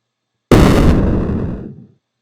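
A photon torpedo detonates in a space fighter video game: one abrupt, loud explosive blast that starts from silence and decays over about a second and a half.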